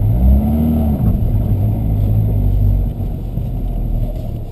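A car driven by a young competitor at a driving contest hums and revs steadily from inside the cabin, a loud, close engine drone that eases slightly toward the end.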